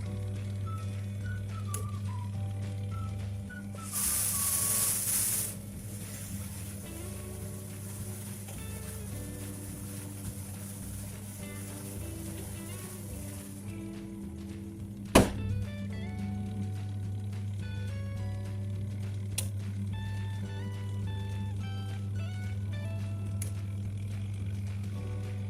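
A compact IRIS washing machine for single occupants runs after being switched on, giving a steady low motor hum with tonal whine, a brief hissing burst early and a single thump later, heard close and alone.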